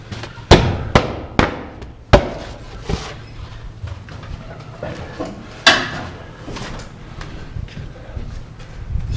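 Hammering nails into roof rafters: a series of sharp, loud impacts in irregular clusters, several close together early on and another strong blow later, over a low steady hum, with lighter knocks and clatter between.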